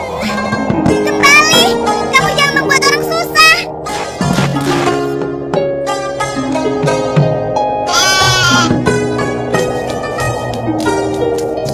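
Goats bleat again and again, wavering and close, under and between a person speaking over a musical background.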